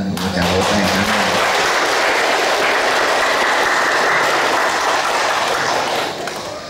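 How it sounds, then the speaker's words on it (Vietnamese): A church congregation claps together in a long, steady round of applause that fills the room, then tapers off at the end. "Xin cộng đoàn chúng ta một tràng vỗ tay cảm ơn."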